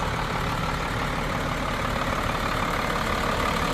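Steady diesel idle from a Dodge W350 4x4 truck with a 12-valve Cummins turbo engine, a loud, even, close rumble running alone without interruption.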